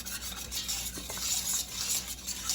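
A whisk works a roux in a pot for clam chowder, with rapid, continuous scraping and swishing strokes against the pot, close and steady, over a faint background hum and without speech.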